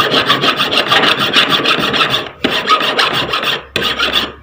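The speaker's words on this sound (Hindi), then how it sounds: "इन्हें काटने के बाद छेनी से ये इकसार कर लें आप" Chisel rasping and smoothing a metal part of a small sewing machine, rapid rhythmic scraping strokes in three bursts with brief pauses, loud and close.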